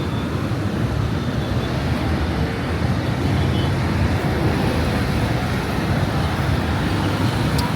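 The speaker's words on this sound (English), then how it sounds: "There are so many motorcycles in the city" A dense, steady roar of city street traffic in Kampala, thick with motorcycles, fills the scene at constant loudness with no single vehicle standing out from the continuous wash of engines and road noise.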